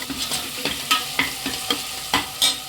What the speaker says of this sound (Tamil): இப்போ நம்ம இஞ்சி பூண்டு பேஸ்ட்டு போட்டுக்கலாம் இதுவும் நல்லா வதக்கலாம்